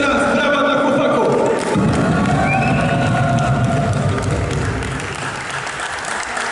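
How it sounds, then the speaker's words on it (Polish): An audience at a live Polish freestyle rap battle event applauds the performers with loud, sustained clapping and some cheering, tapering slightly toward the end, while a voice talks over it. "jeszcze raz, brawa dla chłopaków!"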